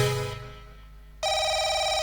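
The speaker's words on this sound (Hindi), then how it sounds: "उठा please pick up the phone." A telephone rings in short electronic bursts, a tone fading out and then a bright ringing tone cutting back in, loud and close with no voices.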